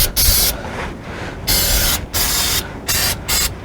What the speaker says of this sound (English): I'll have to go to the other side and spray some over too.